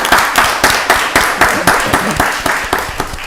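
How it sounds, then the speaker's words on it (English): Applause at a county board of commissioners meeting, a steady round of clapping from the audience with an even rhythm, fairly loud and close, lasting a few seconds without talk. "Give them another round of applause."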